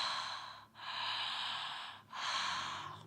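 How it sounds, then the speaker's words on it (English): Ujjayi breathing during a yoga vinyasa practice: two long, steady, hissing throaty breaths with closed mouth, close and alone, separated by a brief pause. "that kind of breathing creates a sound coming from the back of the throat"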